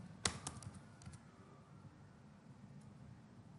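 Quick burst of typing on a computer keyboard, a few close crisp key taps clustered at the start, then fading into quiet room hiss.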